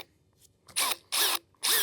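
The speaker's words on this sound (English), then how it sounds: "I'll bore those out without drilling through this 1/2-inch fascia" A drill with a 1/2-inch bit bores into a deck board in three short, loud bursts with brief pauses between them, close up.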